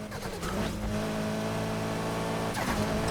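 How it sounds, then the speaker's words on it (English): A Mitsubishi Evo X racing in Need for Speed Heat, its engine holding a steady high rev with turbo flutter and shift chatter bursting briefly at the start and again near the end. "That turbo flutter, that's great."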